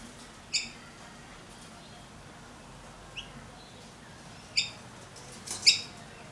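A small bird gives a few sharp, high chirps spaced several seconds apart, begging for food, faint over quiet room noise and with no talk.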